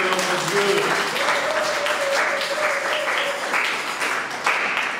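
A church congregation applauds during an Easter-season Sunday service, steady dense clapping filling the whole stretch under a sung or spoken voice carrying over it.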